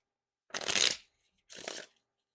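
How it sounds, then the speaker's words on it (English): Orbit Seventh Edition playing cards, slightly cold and clumpy, are shuffled close up in two quick bursts: a longer riffle followed by a shorter one after a brief pause, with no talking. "But my Riffle Shuffles and Bridge Shuffles are not like the smoothest."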